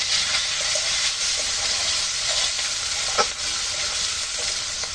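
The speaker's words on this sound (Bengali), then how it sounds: "ভালো করে ভেজে নেবো পেঁয়াজ রসুন" Onion and garlic frying in hot oil with turmeric for a green banana stir-fry, a steady close sizzle with occasional stirring scrapes and clinks and no voices.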